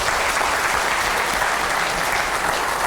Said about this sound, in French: vous avez eu raison de l'applaudir